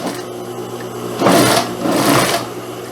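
A sewing machine stitches pantacourt trousers in two close, loud bursts of rapid whirring and needle clatter, with quieter motor hum between them.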